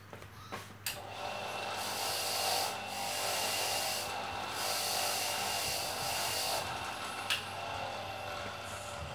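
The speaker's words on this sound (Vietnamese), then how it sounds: "Mình vệ sinh bằng máy đánh cước rất là nhanh." A fouled spark plug from a motorbike with high fuel consumption is scrubbed against a spinning wire brush machine, giving a steady, loud rasping whir that runs for several seconds with brief surges, while a low electrical hum sits underneath.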